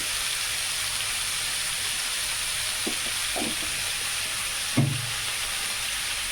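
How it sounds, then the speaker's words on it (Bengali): Potatoes go into already-hot oil in a kadai, giving a steady close sizzle with a few soft clatters and one brief louder splash-like burst near the end. No voices are heard. "আমার তেল কিন্তু অলরেডি গরম হয়ে গেছে এবার আমি আলুটা দিয়ে দেবো"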